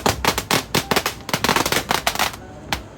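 Firecrackers set off for the Vishu festival burst in a rapid, uneven string of sharp cracks and pops, close and loud, with no talk over them.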